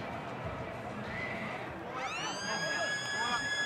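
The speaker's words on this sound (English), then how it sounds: "There is a siren." A loud, sustained stadium siren blares over a roaring crowd at a Super Rugby Pacific match, Brumbies v Moana Pasifika, starting partway through and holding a steady tone to the end.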